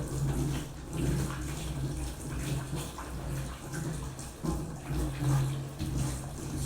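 Running tap water splashes onto hands during handwashing at a sink, a close, low, steady patter that swells and dips with the movement of the hands, with no talk.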